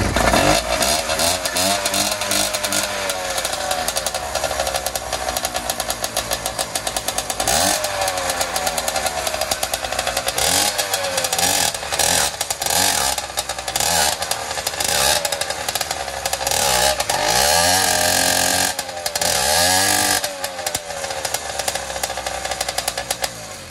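A non-running motorized bike engine is started and revved, roaring loud and close throughout with repeated rising and falling revs and a rough, clipped, distorted tone.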